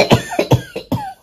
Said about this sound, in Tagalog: Inuubo pa.